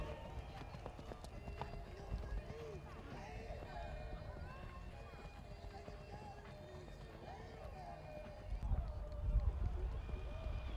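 Hooves of a horse named Stjarni frá Skarði clip-clopping at an Icelandic riding competition, a steady faint rhythm that grows louder as the horse approaches, under an announcer's voice and crowd ambience.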